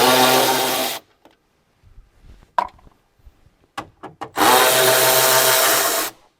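A power driver backs out the 7mm bezel bolts on an OBS Ford instrument cluster, two loud steady whirring bursts separated by quiet clicks and light handling noises.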